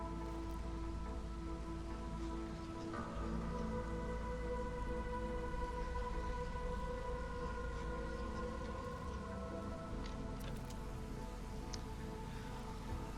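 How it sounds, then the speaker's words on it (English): A rainstorm in the strategy game Against the Storm: steady, quiet rain hiss runs beneath a low sustained droning tone, with a few faint crackling drops and a soft shift in the hum partway through. "Let's just wait until storm's over."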